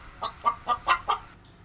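Chicken clucking from a hat in Roblox Brookhaven, five quick evenly spaced clucks, close and clear, then silence.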